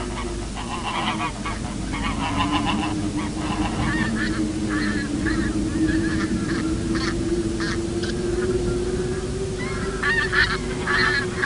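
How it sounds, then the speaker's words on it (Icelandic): Geese honking continuously at the Þjórsárver wetlands, a loud overlapping flock chorus of repeated harsh calls close by, with no speech. "Gæsin ráðríkur fugl og steggjónum lendir stundum saman."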